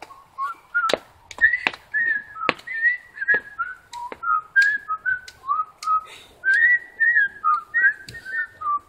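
A whistled rendition of The Andy Griffith Show theme, the wholesome 1960s sitcom tune, carried by a clear melodic line of sliding notes at a steady bouncy rhythm, with sharp percussive clicks scattered throughout.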